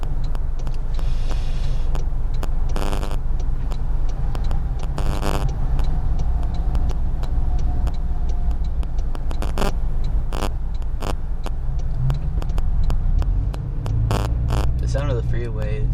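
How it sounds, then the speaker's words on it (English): Steady road traffic from a freeway rumbles continuously as a dense, even wash with passing-vehicle swells, heard off in the distance while a person talks over it throughout. "The sound of the freeways"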